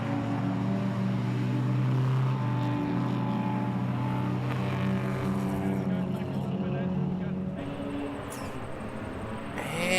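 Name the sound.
BMW E30 race cars racing at Taupo circuit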